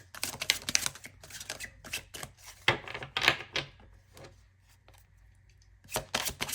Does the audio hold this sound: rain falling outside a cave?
no